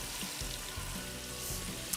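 Mozzarella in carrozza frying in seed oil, a continuous bright sizzle and crackle filling the whole stretch, close and steady with faint clinks.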